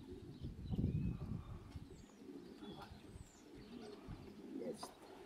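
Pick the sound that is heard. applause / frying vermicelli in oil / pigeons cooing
pigeons cooing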